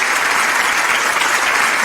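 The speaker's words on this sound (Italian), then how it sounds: "Ehi, quanti applausi" A studio audience on an Italian radio-TV show breaks into loud, dense applause, many hands clapping continuously at close range with no pauses.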